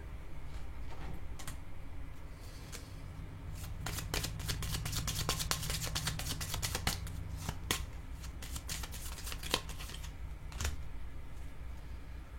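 Tarot cards being shuffled for a reading, with repeated riffling and flicking bursts close up, building into rapid clustered snaps in the middle before slowing to sparse flicks.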